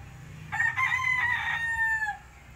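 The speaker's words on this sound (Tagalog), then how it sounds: "Manok!" A rooster kept in a small rooftop chicken coop on a third-floor building crows once, a clear, fairly close call rising and then trailing off, with quiet background before and after.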